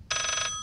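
A telephone rings once in the horror video game Layers of Fear, a bright bell trill that bursts in loudly and holds steady for about half a second before cutting off.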